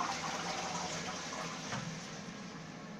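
A hotel toilet flushes, a steady rushing gush of water filling the bowl that holds for several seconds and eases slightly toward the end.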